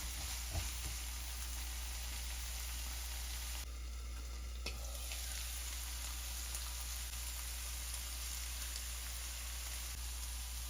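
Prawns with chopped coriander fry gently in a pan, a steady soft sizzle running throughout under a constant low hum, with a brief scrape or clink partway through and no talking.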